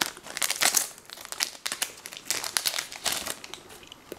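A Cardfight!! Vanguard card pack wrapper is torn open, giving close, continuous crinkling and crackling of foil plastic in irregular bursts.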